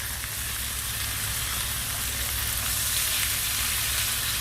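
Lamb chops with onions and garlic sizzle loudly and steadily in a hot pan, a dense, close frying hiss that holds without pause and with no voices.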